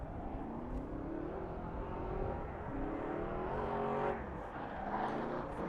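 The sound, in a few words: drift car engine at LS Fest drift challenge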